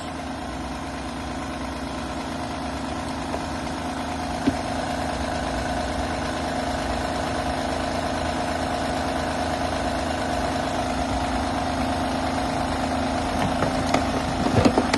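A Honda Pilot engine idles steadily at close range during an alternator test, giving a continuous, even hum with no talk over it.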